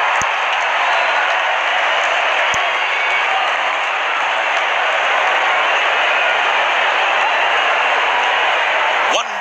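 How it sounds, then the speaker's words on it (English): Cricket crowd applauding a batsman's fifty, a steady distant wash of clapping heard through a broadcast, continuous and even, with no clear voices. "Wonderful 50, and the crowd applauds."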